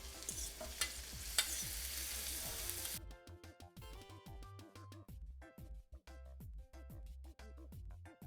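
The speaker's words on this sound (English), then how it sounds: "it's time for us to begin frying up this saltfish here" Salted cod pieces fry in a pan, giving an even crackling sizzle for the first few seconds before things go quieter, with soft stirring and clinking in a kitchen.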